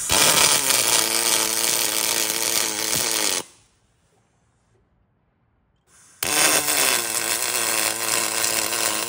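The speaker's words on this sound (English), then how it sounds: "I have enough room to put a little tiny weld on those chines as well" A loud, continuous buzzing crackle of welding on an aluminium boat hull, tacking a transducer mount bracket to the chines, runs close up, cuts to silence for about three seconds, then resumes just as loud.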